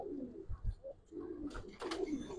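Giribaz pigeons in a loft cooing in soft low repeated coos, a few separate bursts with brief fluttery rustles between, close and fairly quiet.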